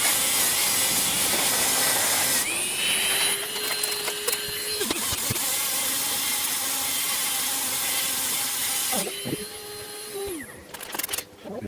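A nylon brush embedded with silicon carbide grit scrubs a textured boulder opal surface on a rotating machine, giving a steady whirring hum with motor tones rising and falling as it spins up and slows.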